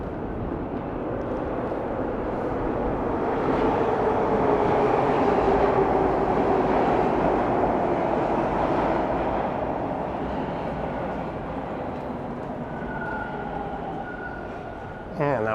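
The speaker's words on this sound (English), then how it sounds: "And that was an eastbound train rolling in." An eastbound subway train rolls into a station, a broad sustained rumble that swells and slowly eases, with a brief tonal whine near the end and faint background voices.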